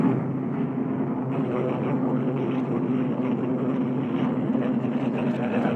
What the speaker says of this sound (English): American P-38 rise to the attack.